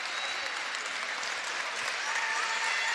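Home-crowd applause at a high school boys basketball game, Wolves fans clapping steadily in a gym, a brief continuous burst of moderate loudness.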